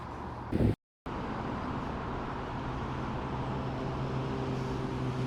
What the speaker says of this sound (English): I'm sorry about the road noise if you can hear that